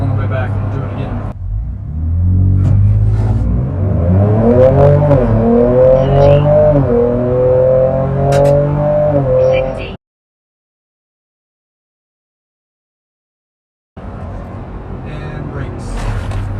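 A Ford Ranger Raptor pickup in sport mode and two-wheel drive accelerates hard from a standstill. Its engine note is loud and close and climbs through several gear changes for about eight seconds, then cuts to silence before road noise returns.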